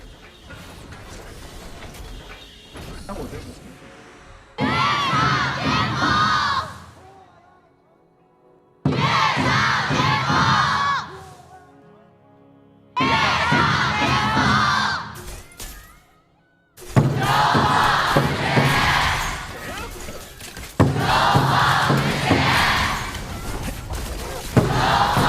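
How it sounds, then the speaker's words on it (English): A large esports arena crowd at the KPL Grand Finals roars and cheers in loud repeated waves, with quieter game sounds and mechanical noises filling the gaps between bursts. "we want to hear the crowd. We want to hear those cheers firsthand."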